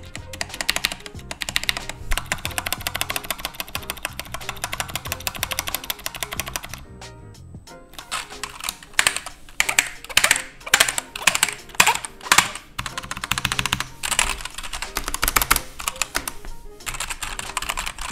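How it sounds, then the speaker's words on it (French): Fast, clattery typing on a Cooler Master CK351 optical mechanical keyboard with a resonant chassis, bursts of rapid keystrokes, a short pause midway, then continued loud, uneven clicking up close. "on entend bien la résonance du châssis, ce qui est bruyant en fait"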